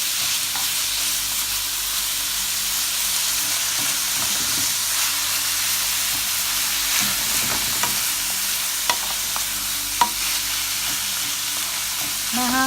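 Ground pork frying in a pan with salt and pepper while picadillo is being cooked, giving a steady close sizzle with stirring scrapes and a few sharp utensil clicks.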